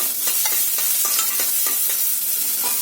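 Chopped onion and chillies fry in hot oil for vermicelli upma, giving a steady bright sizzle broken by a rhythmic series of spoon or spatula scrapes against the pan, close up with no talking.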